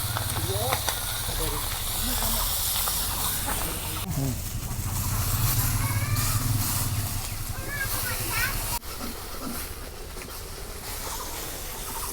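Fish roe sizzling in an overheated pan of oil, a loud, steady hiss and crackle that runs throughout, with people talking over it at times.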